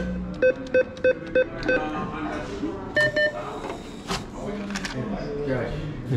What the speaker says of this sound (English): Go to the machine and get out some cash.